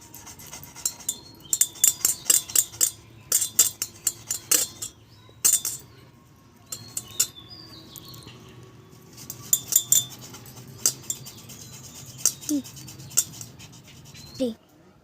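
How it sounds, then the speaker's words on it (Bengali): Boiled potatoes grated by hand for egg cutlets, giving a run of short scraping, clinking strokes against a metal grater, close and fairly loud, with brief pauses between bursts. "এইভাবেই আমি আলুগুলো গ্রেট করে নেব।"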